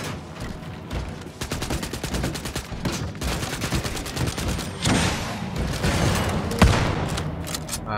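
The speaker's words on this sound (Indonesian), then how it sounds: "Nah, ini tembak tangkinya." Sustained rapid gunfire aimed at a tank in Wolfenstein: Youngblood, a dense continuous rattle of shots with a heavier impact near the end, loud and close.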